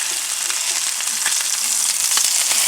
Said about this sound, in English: So now that side is going to sear up and render off that fat